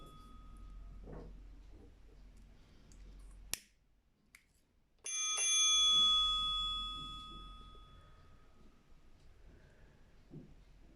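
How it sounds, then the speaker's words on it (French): A bell strikes once and its bright, ringing tone lingers and slowly fades over a few seconds in an otherwise quiet indoor setting, with faint scattered noises before and after. "c'est la cloche qui sonne"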